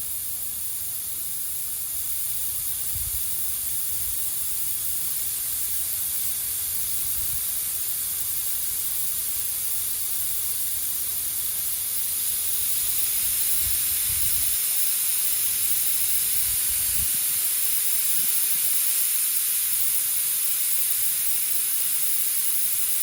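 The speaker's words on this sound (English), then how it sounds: "you can feel the air coming out of the tank as it's filling up" Propane hisses steadily while a 1 lb Flame King tank is being refilled, a continuous close-up rushing spray that grows slightly brighter and louder partway through.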